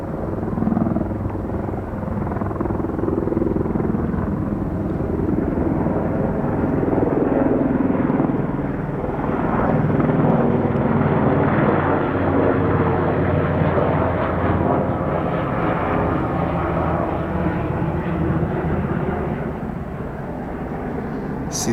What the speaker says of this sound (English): Looks like they got more choppers